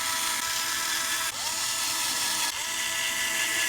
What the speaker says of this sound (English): I'm going to put just a couple of screws back here.